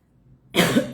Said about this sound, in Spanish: perdón la tos.